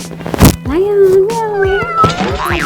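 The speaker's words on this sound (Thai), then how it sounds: "ก็เลี้ยงน้องแมวเปอร์เซียมา เป็นเวลา 3 ปีด้วยกันค่ะ" Persian cat meowing loudly and close up, one long drawn-out wavering meow followed by shorter calls, with a thump near the start.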